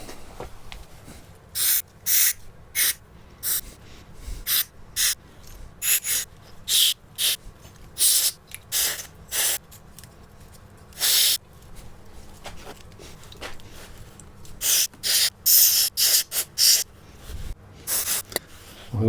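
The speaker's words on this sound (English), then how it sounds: "I promised I would give it a dose of electrical cleaner" Electrical cleaner sprays onto a motorcycle wiring loom during a TZR rebuild in repeated short hissing bursts of varying length, close and loud, separated by brief pauses.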